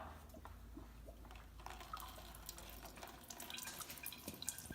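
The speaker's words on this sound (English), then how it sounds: "I'll start unscrewing that here and be ready for the oil to fall down" Motor oil drains from a car's oil pan, heard as a faint, continuous liquid trickle and splatter with scattered drips, quiet and alone without talk.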